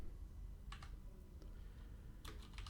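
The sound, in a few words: typing HTML code on a computer keyboard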